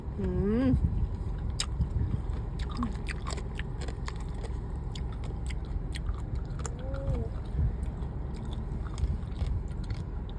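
Crisp bites and chewing on a fried bullet-jellyfish snack at a busy Thai temple fair, with close crunchy mouth sounds repeating over constant crowd noise and people talking nearby.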